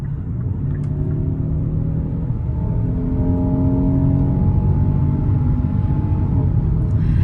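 The V6 engine of a 2024 Kia Telluride SX Prestige accelerates under a steady cabin rumble, its deep drone rising gradually in pitch. The sound is moderate in level and continuous, with no talking.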